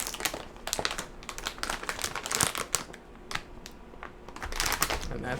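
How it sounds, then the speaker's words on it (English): Protective foam packaging is pulled from the box of a Gigabyte GeForce RTX 3060 Ti Gaming OC graphics card, giving close, dense crinkling and rustling with rapid irregular crackles throughout. "Here we have our piece of protective foam right there on top. So we'll go ahead and remove that."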